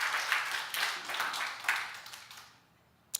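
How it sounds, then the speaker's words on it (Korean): A church congregation gives a short round of clapping during a sermon, moderately distant and fairly soft, with uneven bursts of many hands that fade out over about two and a half seconds before a brief sharp noise. "저와 동의를 하시면 박수 한번 보내주세요"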